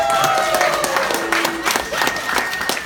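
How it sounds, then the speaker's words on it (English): Applause and scattered cheering from an audience after a Halloween skit at Dodge Nature Center, a dense spread of clapping with a few voices calling out over it. "A round of applause for Mr. Small."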